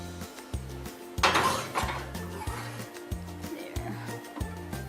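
An apple crisp baking dish slides into an oven, with clattering dish and rack clinks, a thud as it lands and a door-like knock, close and moderately loud over a steady rhythmic background hum.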